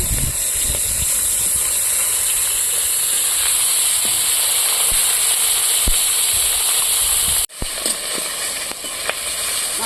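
Fish sizzles steadily in hot oil, a dense continuous hiss with scattered pops and crackles, briefly cut off near the end before the frying resumes; pond fish being fried in a home kitchen.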